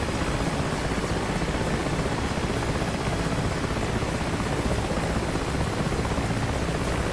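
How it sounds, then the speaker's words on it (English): Helicopter in the DCS World flight combat simulator during a dogfight helicopter competition, its steady broadband rotor and engine roar filling the whole stretch at a constant, close, loud level with no voices. "Helicopter and Boris in a helicopter."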